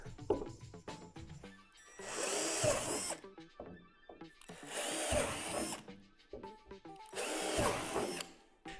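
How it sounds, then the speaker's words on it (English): Three loud bursts of a power drill boring out divots in a plastic swing set slide, each lasting about a second, spaced by short quiet gaps, up close. "At the top of the slide, drill out the 3 divots."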